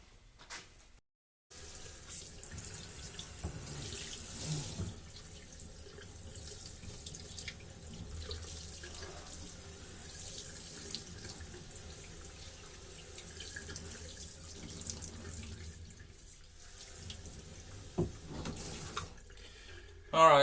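Water runs from a sink tap in a steady, moderately close stream, with faint clinks and a brief cutoff near the start and a louder knock at the very end.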